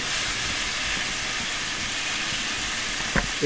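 Chopped onion, garlic and ginger fry in hot oil in a home kitchen, a loud, continuous close hiss with a brief utensil knock near the end, no talk.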